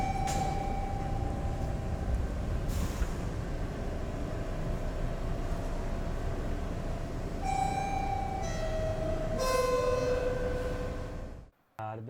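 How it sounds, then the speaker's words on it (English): A TTC T1 subway train pulling into Victoria Park Station, heard from the operating cab: steady rumbling motor and wheel noise with tonal whines rising and shifting, ending in an abrupt drop near the stop. "We're sitting in the operating cab of the T1, and we're pulling into Victoria Park Station."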